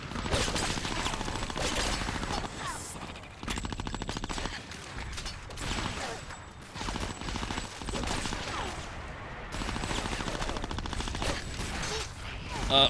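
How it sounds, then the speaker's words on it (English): Rapid bursts of gunfire from guns in the video game Conker: Live & Reloaded, dense and continuous across the clip with busy game sound behind. "And now we can shoot these guys."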